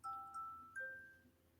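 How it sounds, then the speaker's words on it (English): A phone's short electronic sleep-mode chime plays, two soft tones followed by a higher one, faint and clean against near silence. "That was my phone telling me it's going into sleep mode."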